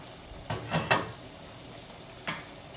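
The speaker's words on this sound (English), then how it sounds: "It's one of those things that you just let it sit on the stove and cook away" Turkey ragu cooking in a pot on the stove, with soft sizzling and a few brief stirring scrapes rising above a quiet, steady bubbling.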